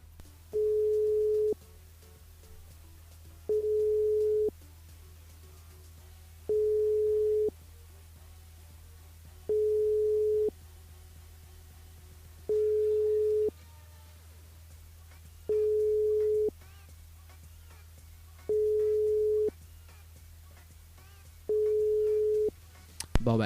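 Ringback tones on a phone call to a radio listener who never answers: eight evenly spaced beeps, each about a second and a half long, repeat in a slow, steady rhythm over a low background hum.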